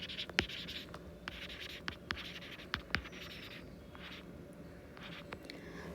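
A pen scratching across paper as notes are written by hand, a steady close scraping with occasional sharper taps of the tip, moderately loud and continuous, with no talking.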